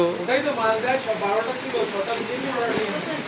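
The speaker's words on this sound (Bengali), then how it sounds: "পুরো আরাম বৃষ্টি, ঠান্ডা করে দিচ্ছে।" Rain falls steadily during a celebration, a dense hiss of drops on surfaces running throughout as a voice talks over it.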